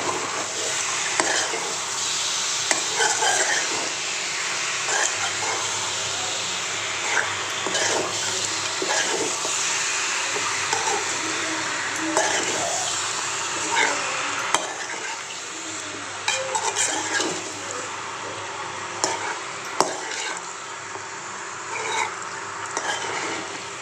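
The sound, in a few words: chicken pieces stirred and frying with ginger garlic paste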